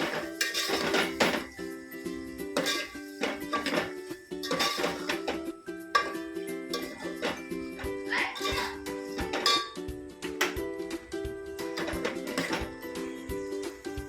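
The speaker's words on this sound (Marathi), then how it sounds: "आता छान परतून घ्यायचं आपल्याला मसाल्यामध्ये" Vegetables for paneer matar pulao being stirred and sautéed in masala in a metal pan, with repeated scraping and clinking of a spoon against the pan over a steady background, close and fairly busy.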